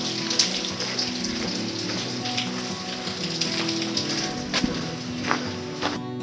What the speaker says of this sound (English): Just in time for a light shower.